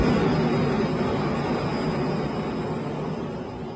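A loud, steady jet engine roar, a dense broadband rush with a faint high whine, easing slightly toward the end.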